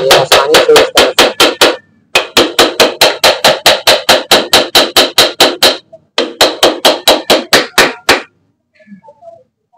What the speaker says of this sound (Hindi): तो बराबर बराबर से इसे हल्का हल्का चोट देते जाना है और ये बैठते जाएगा